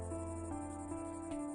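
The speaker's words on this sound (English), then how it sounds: "Cicadas chirp." Cicadas chirping in a mature-audience audio drama scene, a steady buzzing drone with layered tonal hums, faint and continuous without pauses.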